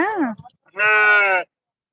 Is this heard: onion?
no